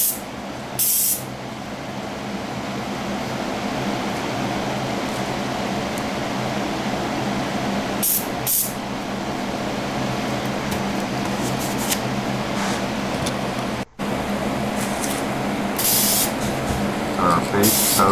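Primer sprays onto a Hot Wheels Trans Am die-cast car in a steady, close hiss that runs almost without a break, broken only by a few short sharper bursts.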